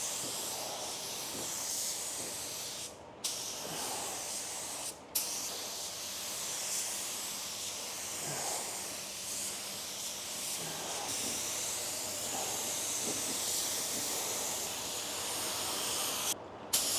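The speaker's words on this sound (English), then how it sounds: "We want to spray it evenly across this entire bumper cover and the repair areas." Spray gun laying a sealer coat across a car bumper cover and repair areas in a body shop, a steady continuous hiss running nearly the whole time, broken only by a few very short pauses at the trigger.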